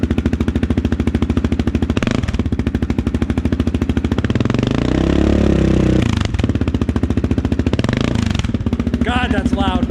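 A 2019 Can-Am Outlander 650 XMR ATV with a Yoshimura slip-on exhaust runs loud and close, its rapid, choppy exhaust pulses rising briefly with a throttle blip before settling back to idle, with a voice heard near the end.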